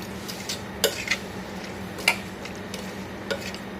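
A spoon stirs chopped chayote and other vegetables with salt in a cooking pot, giving a few sharp scraping clinks spaced about a second apart over a steady low hum, with no voices.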